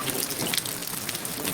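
Heavy rain pours down steadily in a cartoon scene, a dense hiss of drops falling on a surface, loud and unbroken with no voices over it.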